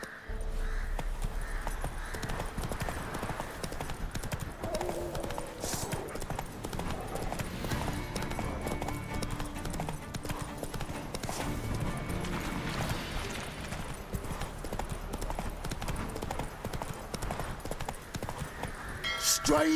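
Hooves of Roach, the horse in The Witcher 3, clop in a fast rhythmic gallop under game sounds and murmuring voices, fairly quiet and steady throughout.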